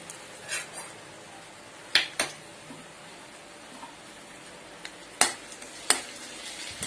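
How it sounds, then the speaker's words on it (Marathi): Garlic frying in oil in a kadhai gives a faint sizzle broken by a few sharp spatula scrapes and clinks against the pan, close by with no talking. "लसूण थोडा लाल करून घेते."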